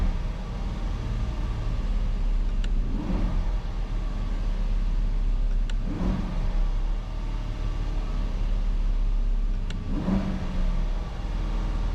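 An Aston Martin engine running steadily with three brief revving swells about every three seconds as it is shifted through its gears, heard close with no talk.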